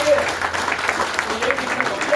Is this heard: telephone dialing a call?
no